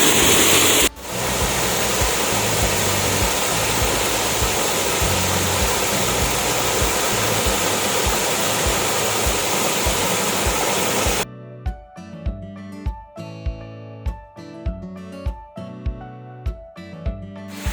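Steady, loud broadband rush of a river flowing over a small waterfall on farmland fills most of the clip, then cuts abruptly to rhythmic music with sharp beats.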